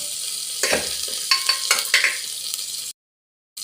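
Horse gram cooks in a pan with a close, steady sizzle and several scraping stirs and clinks of a spoon, ending abruptly in silence.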